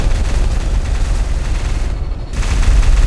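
Dense, continuous gunfire from modern weapons in Minecraft, a loud rumbling fusillade with a brief dip near the end, no talking over it.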